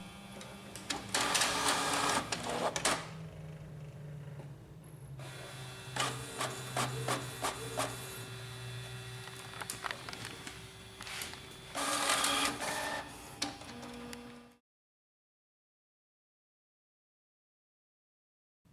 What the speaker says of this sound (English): The printer starts copying.